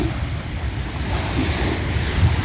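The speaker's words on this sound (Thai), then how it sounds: "ลมทะเลก็ไม่แรงนัก ลื่นเบาๆค่ะซัดสาดเข้ามาที่ชายฝั่ง" Gentle sea waves wash steadily onto Pattaya beach in Thailand, a continuous soft surf rumble mixed with wind buffeting the microphone.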